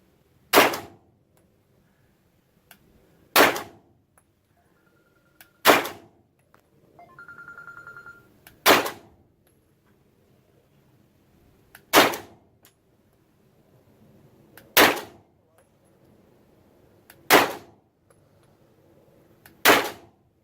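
Pistol shots from a CZ P-09 firing cheap steel case ammunition at targets about 10 yards away, eight sharp loud reports spaced a few seconds apart with quiet gaps and a brief hum in between.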